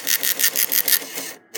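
A printer connected to an EAS encoder/decoder prints a report with a worn, faint ribbon, giving off rapid, evenly spaced rasping bursts of mechanical chatter, close and fairly loud, with a short pause near the end.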